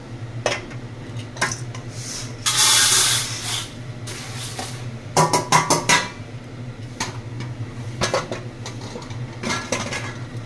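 Roasted lentils for idli podi rustle and scrape in a pan as they are stirred, with scattered dry rattles and one longer hissing burst. No one speaks.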